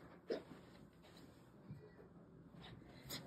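A cat makes a short vocal sound near the start of a quiet indoor room scene, followed by faint soft shuffling and movement; no one talks.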